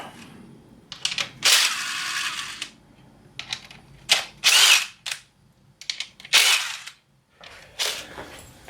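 Power tool loosening valve cover bolts on a 2012 BMW E93 335i, repeated loud bursts of whirring and rattling ratchet-like impacts separated by short pauses, close and dominant with no speech.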